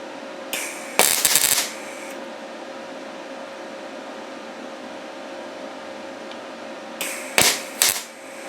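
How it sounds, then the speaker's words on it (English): A YesWelder DP200 welder fires a half-second weld: brief sharp crackling bursts near the start and again near the end, with a steady machine hum in between. "So it does a half a second weld when I squeeze the trigger."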